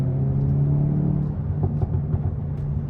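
A 2023 Hyundai i30 N with a DCT gearbox hums along a road with a steady low engine drone and rumble that eases slightly, with a few faint clicks over the top.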